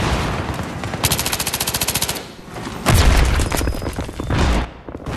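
Automatic gunfire from a Battlefield 3 match: a fast, loud rhythmic burst of rounds followed by heavier booming shots and scattered fire, dense and close throughout.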